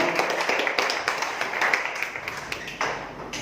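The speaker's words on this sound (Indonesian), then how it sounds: "Tepuk tangan untuk kita semua." An audience at a Hindu youth talk claps in scattered, light taps, fairly faint and uneven over a few seconds without a full ovation.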